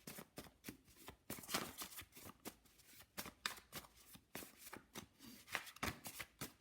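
Tarot cards shuffled by hand, a deck riffled and cut in quick repeated bursts of crisp papery slapping, close and steady, with no talking.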